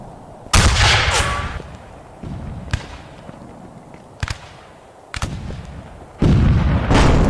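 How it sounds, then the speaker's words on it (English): Shotgun fire in the video game Rise of Liberty: several loud, sharp blasts spaced a second or two apart, each with a booming tail, against quieter game ambience. "It was a shotgun."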